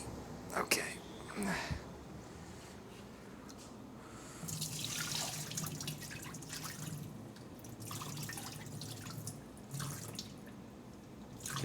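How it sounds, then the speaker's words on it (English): Tap water runs into a kitchen sink while noodles soak, a steady wash that strengthens about halfway through and continues under faint background talk. "You hear the sound of the water."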